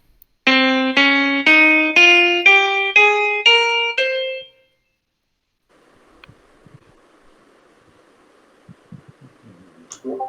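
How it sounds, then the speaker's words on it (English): A Phrygian mode scale played as eight sustained, harmonically rich notes, each stepping higher in a steady even rhythm. Afterwards comes quiet background rustling and a soft clatter. "So this is the Phrygian mode, and it sounds like this."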